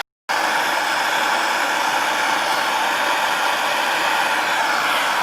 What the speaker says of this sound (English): So just heating it up, we're going to move it and test fit it again.